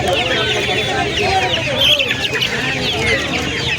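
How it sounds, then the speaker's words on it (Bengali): Roosters and hens packed together at a busy poultry market in Uluberia, Howrah, cluck and squawk continuously at close range, with crowd chatter and voices mixed underneath. "এতে মোরগ আর মুরগি সব একসঙ্গে আছে"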